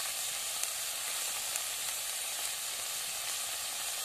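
Chikni greens fry in a pan with a steady, close sizzle as they are stirred, a constant hiss broken now and then by small clicks from the spoon.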